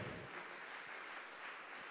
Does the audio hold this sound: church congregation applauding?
yes